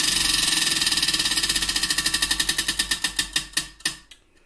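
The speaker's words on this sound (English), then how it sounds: "I'm just going to spin it." A prize wheel spins, its pointer clicking in a fast, even stream that gradually slows, the clicks spreading further apart until the wheel stops; close and distinct, with no talking.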